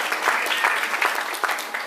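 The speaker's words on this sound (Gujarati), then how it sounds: "તાળી વગાડો યાર." A small group applauds, a steady spatter of hand claps with a few sharper claps standing out, close by and continuing throughout the short stretch.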